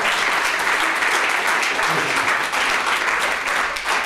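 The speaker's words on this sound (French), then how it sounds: "merci des applaudissements" An audience claps in a dense, continuous roar of applause that holds steady for several seconds with no break.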